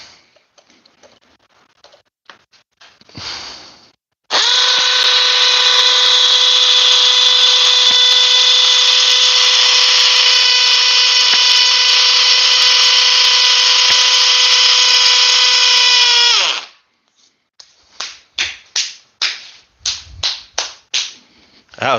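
A cordless Bosch rotary hammer in drill mode at speed 2, on a fully charged 6 Ah battery, whines loudly and steadily for about twelve seconds. Short clicks and taps come before and after the run.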